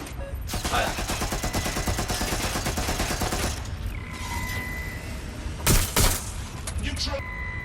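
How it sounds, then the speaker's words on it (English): Rapid gunfire rattles in Watch Dogs Legion, a long fast volley of close, loud shots, then a lull with mechanical game sounds before a couple of heavier blasts. "Shot fired!"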